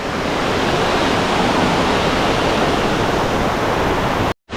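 A forceful waterfall crashing down from a height roars as a dense, loud, steady wash of white noise, unbroken until a brief drop at the very end.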